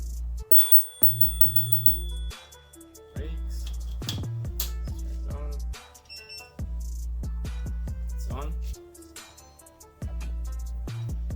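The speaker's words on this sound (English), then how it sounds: "And the bell works." A bicycle bell mounted on a bar-end setup of an Apollo City Pro 2022 rings with a few bright chimes among scattered clicks and handling knocks, close and fairly quiet.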